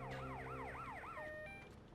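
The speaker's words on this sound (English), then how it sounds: "I can hear the ambulance coming" An ambulance siren in GTA Vice City wails in steady rising and falling sweeps, loud and continuous with a faint engine rumble underneath.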